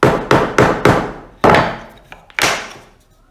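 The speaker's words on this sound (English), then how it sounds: "make sure to get that chisel going straight up and down, then coming through and giving it a light tap" A mallet strikes a wood chisel held upright in a workpiece, giving about six sharp, close wooden knocks, the first four in a quick even rhythm and the rest spaced further apart, each ringing briefly before fading.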